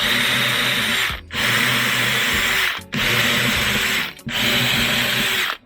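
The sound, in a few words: power drill drilling holes for a camera sunshade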